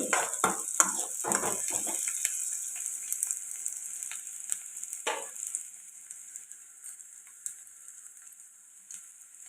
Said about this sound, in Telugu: ఉల్లిపల్లిలా మంచిగా ఫ్రై చేసుకోవాలండి